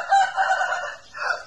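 A rooster, a breeding cock about two years old and weighing 3.5 kg, crows once nearby, a loud drawn-out call broken into a few segments that trails off near the end.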